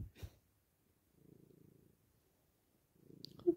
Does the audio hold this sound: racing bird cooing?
no